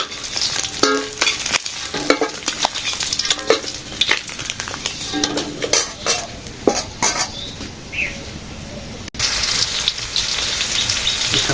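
Bay leaf, dried chilli, cumin and koi fish fry in hot oil in a village kitchen, giving a loud close crackling sizzle broken by repeated metal spatula scrapes and clinks against the pan.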